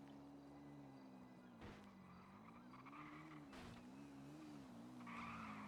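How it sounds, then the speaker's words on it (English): Car tyres screech in a roleplay video game, with a sustained engine drone underneath and a few short bursts of skidding squeal standing out above it, the final squeal the loudest. "you can see his tyre screeches right there"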